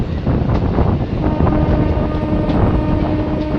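A MEMU train pulls away on the Azimganj–Rampurhat line in the evening, giving a steady, loud, close rumble of wheels and carriages that runs without pause.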